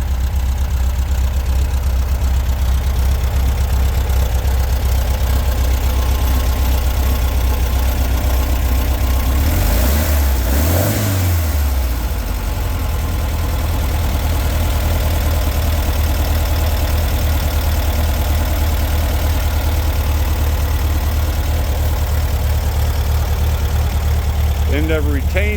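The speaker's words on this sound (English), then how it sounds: "Air-cooled engine, horizontally opposed." An air-cooled, horizontally opposed VW 1776 cc engine with dual Dellorto carburetors idles steadily in a bus on its first start after six months. The low rumble is continuous and loud throughout, with a slight dip in the middle.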